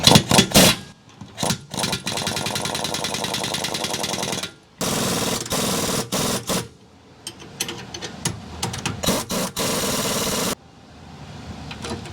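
An impact wrench backs off the U-bolt nuts on an RV axle during an axle upgrade, firing loud, rapid hammering bursts of several seconds each, separated by brief pauses, close by with no talk.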